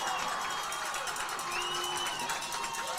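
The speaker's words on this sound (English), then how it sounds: "the Batesville crowd's going to get loud" A home crowd at a Batesville high school football game roars in a dense, steady wall of cheering and shouting, loud and sustained throughout.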